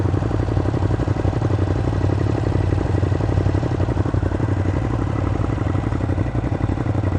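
A motorcycle engine runs steadily and close by, a loud, even mechanical rumble with a fast, regular pulsing beat and a light clatter, holding constant throughout with no voices.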